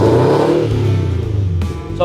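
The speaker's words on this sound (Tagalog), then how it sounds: "naka-HKS exhaust na siya. Gusto mo sound check, bro?" A Toyota 86 fitted with an HKS exhaust revs up close and loud, its engine note rising then easing off over two seconds.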